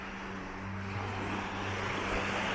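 Slightly rough sea waves on a quiet beach at Güzelyalı, Çanakkale, heard as a continuous wash of surf with wind and a low steady hum beneath.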